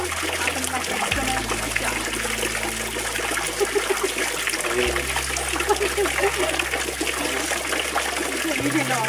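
Spa pool water at 38 to 40 degrees running from a small shower, a steady loud rushing and splashing trickle that carries on throughout with no pauses.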